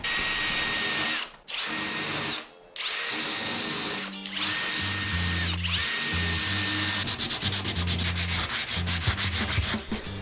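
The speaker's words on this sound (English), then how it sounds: "drill a pilot hole followed by a bigger hole" A power drill whines loudly in several long bursts, briefly stopping between them, then continues with a rapid rattling grind, drilling a pilot hole in a fiberglassed surfboard.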